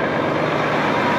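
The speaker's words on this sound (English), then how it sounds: "I've got a lorry wanting to get past now." A lorry's engine idles nearby while it waits to get past, a loud steady low rumble throughout with no talk.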